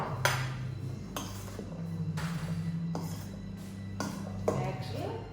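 A utensil stirring egg whites into spinach for a Greek spinach pie, clinking against the bowl in a slow, regular rhythm of light knocks over a low, steady background tone.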